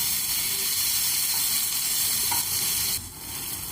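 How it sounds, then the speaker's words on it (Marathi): Two finely chopped tomatoes frying in a pan for chole masala give a steady, close sizzle with soft stirring scrapes, the hiss easing slightly near the end. "आता हे टॅमॅटो ही छान असे नरम होईपर्यंत आपण याला फ्राय करूया।"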